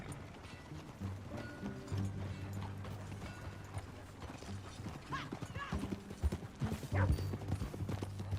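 Steady clip-clop of horse hooves at a trotting pace in Red Dead Redemption, with some mechanical clicks and background music-like tones underneath.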